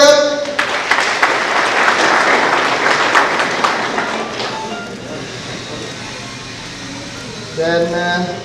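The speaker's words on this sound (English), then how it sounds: "Can you clap for them?" Conference audience clapping for students receiving medals: a burst of dense applause in the opening seconds that fades into a quieter hum, with a voice speaking briefly near the end.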